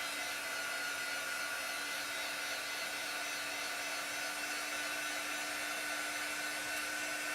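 A hair dryer blows steadily on handmade chalk paste stencil craft pieces, a loud, unbroken whooshing drone with a faint steady hum that lasts throughout, alone without speech.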